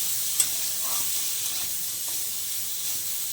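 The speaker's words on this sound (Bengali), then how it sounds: "পনিরগুলো একটু হালকা ভেজে নেবো" Paneer frying in a pan with salt and turmeric, a constant close hiss and sizzle of hot oil with a brief sharp tick early on and a few soft stirring scrapes.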